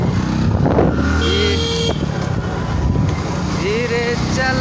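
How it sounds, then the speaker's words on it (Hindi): A road jammed with vehicles, a dense, continuous rumble of engines close by with short horn toots rising over it, and people talking throughout. "पूरे रास्ते में भीड़ आ गई है पूरे जाम हो गया है रोड जाम पूरा हो गया"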